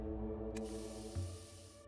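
Pepper spray fired in the police strategy game This is the Police 2: a steady hissing spray burst running for more than a second over constant game background music, with no talk.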